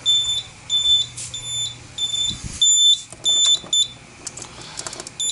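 A fire alarm under test sounds in repeated bursts of high electronic beeping, loud and close, with short gaps between pulses.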